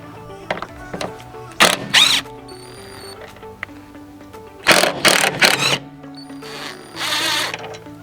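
A Torx T30 driver backs out the A-pillar screws on a Jeep Wrangler JK, giving several close, sharp bursts of ratcheting, zipper-like clicking separated by quiet pauses, with no talking.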